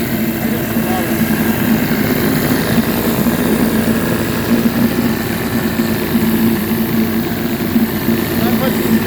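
A pair of 1953 Scott Atwater Gold Pennant 7.5 hp vintage outboard motors run with a steady, close, loud drone and a buzzing engine tone, continuous throughout.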